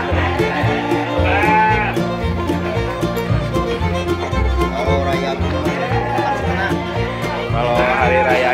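Merino sheep bleat repeatedly at a goat and sheep livestock market, loud and close, with overlapping calls amid a busy crowd, and people talk throughout.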